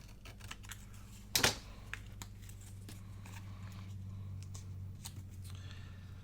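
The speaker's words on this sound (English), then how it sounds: "I'm going to go ahead and just cut this little edge off here." A single sharp cut as scissors snip a small edge off paper scraps for a large tag journal, one brief crisp burst near the start over a quiet room hum with faint small clicks.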